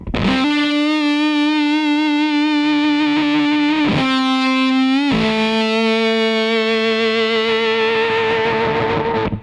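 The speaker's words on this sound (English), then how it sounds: "getting a little bit more broken tone while turning the octave up" Distorted electric guitar through a Kemper Profiler with an octave effect, holding long single notes, each doubled by a higher octave tone, sustained and loud with slight wavering.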